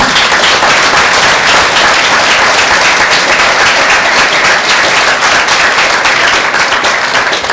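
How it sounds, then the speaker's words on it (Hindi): A church congregation gives loud applause at a Tuesday meeting, a dense, roaring burst of many hands clapping close and steady from start to finish. "कैसे परमेश्वर को जोरदार ताली दें।"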